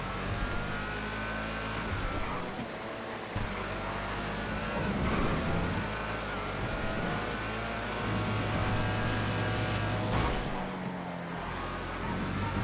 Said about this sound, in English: Alright, SP3 Mirage. This is the LMP3 car